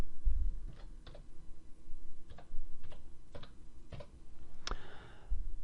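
Keystrokes tapped on a computer keyboard during data entry, a sparse run of separate clicks spaced about half a second apart over a low steady hum, close and fairly quiet.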